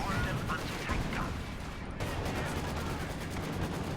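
A World War II strategy game battle with anti-tank guns in play, where repeated gunshots and heavy artillery thuds crackle in a dense, fairly distant barrage under continuous excited commentary.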